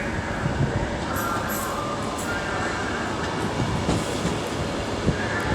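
An Avanti West Coast class 390 train rumbles past at Stafford on the West Coast Main Line, a continuous loud roar with faint wheel clatter and brief high squeals, no talk.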